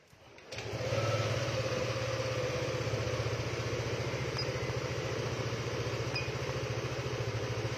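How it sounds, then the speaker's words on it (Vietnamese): A Yamaha scooter engine turns over and catches, then settles into a steady, loud idle with a low rumbling hum that continues unbroken. "rồi chúng ta sẽ nổ máy"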